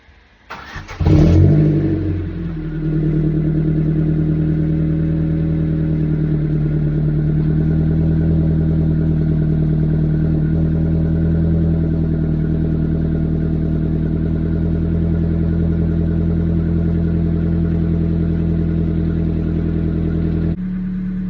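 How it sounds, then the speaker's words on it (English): Ford Focus Mk2 engine cold-starting after two weeks unused: a brief cranking burst, a quick rev flare, then a steady, loud idle that holds evenly for about eighteen seconds before cutting off. "let's go cold start the car after 2 weeks of not even having the engine running"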